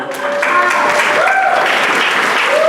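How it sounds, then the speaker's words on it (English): Audience applause at a Rotary club meeting, steady dense clapping filling the room at full strength from start to finish, with a few whistles or cheers rising above it. "Round of applause for Maggie Harlow"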